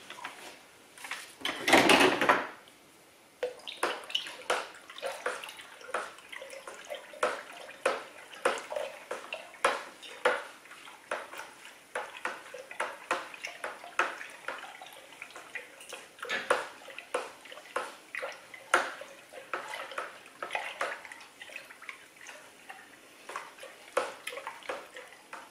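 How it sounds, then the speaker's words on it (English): Homemade Merlot wine from a kit being stirred to degas it, with an irregular run of soft clinks, knocks and splashy scrapes that begins with one louder burst and then continues faintly and steadily throughout. "So I'm going to get stirring with this"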